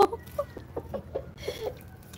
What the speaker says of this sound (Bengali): মুরগিগুলো ভাবতেছে ওর মাছ দিব, এই জন্য ওরা আনন্দ পাচ্ছে